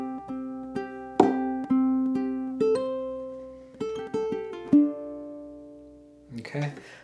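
A guitar strums a chord pattern returning to C6, with ringing chords struck one after another and a quick build of strums at the end, played alone and clear.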